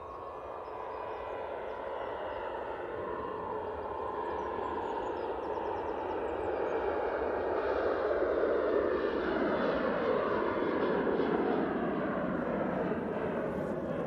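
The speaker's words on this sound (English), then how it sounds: "Right, it's Ryanair off to Belfast" A Ryanair airliner bound for Belfast takes off from runway 05 left at Manchester Airport, a broad jet roar that swells steadily louder as it passes, heard from a distance with no talk.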